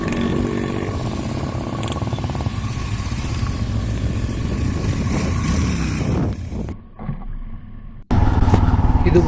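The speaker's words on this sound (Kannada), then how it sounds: "ಇದು ಬಂದು ಆಫ್ ರೋಡಿಂಗ್ ಮಾಡ್ತಿರೋದು ಹಿಮಾಲಯ ಬೈಕ್" A Royal Enfield Himalayan motorcycle off-roading on a rough trail near Bangalore runs loud and close with a chugging engine and wind buffeting, dipping to a brief lull before the engine roars back strongly.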